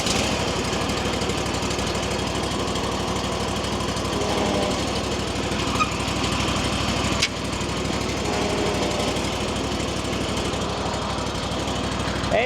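A Wright Stander zero-turn mower's high-hour engine runs steadily at close range, a continuous rough, buzzing drone that holds level throughout with no pauses.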